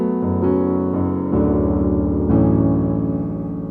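Chords of a song ring out on a piano in an easy arrangement, four sustained chord changes struck one after another, clear and close with no talking.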